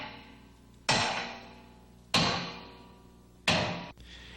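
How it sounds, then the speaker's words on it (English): Three loud, ringing hammer strikes on a spanner wrench tightening a control stud housing into the casing of a Grundomat P, spaced roughly a second and a half apart, each decaying slowly in a quiet room. "tightening with a spanner wrench and hammer."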